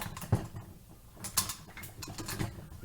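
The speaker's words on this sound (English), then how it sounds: "Must first cock back the bolt." Bolt of an Umarex M1A1 Thompson SMG being drawn back, giving a few faint metallic clicks and scrapes, spread out and quiet at close range.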